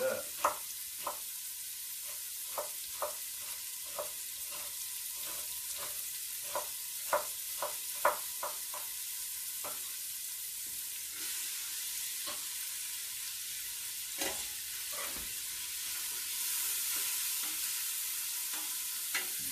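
Onions sizzle in a pan while tomato sauce is being made, a steady frying hiss broken by sharp, irregular clinks and scrapes of a utensil stirring against the pan.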